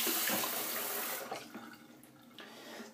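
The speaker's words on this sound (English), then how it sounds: "let me go ahead and rinse the bay rum off of this here spoon" Tap water runs into a sink as a spoon is rinsed of bay rum; a steady close splash for about a second, then it thins to light trickles and drips.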